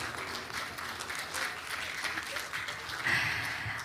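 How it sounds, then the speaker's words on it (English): A round of applause from an audience at a ceremony, with steady mid-level clapping across the clip and some voices mixed in underneath. "Give a round of applause, everyone."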